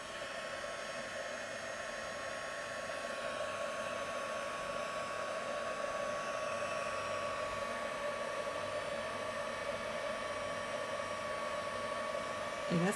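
A scrapbooking heat gun blows hot air in a steady, loud, unbroken whoosh with a faint constant whine, running alone without talk for the whole stretch.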